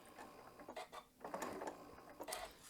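A sewing machine sews around a welt zipper pouch in short, quiet bursts of stitching broken by brief pauses, close by.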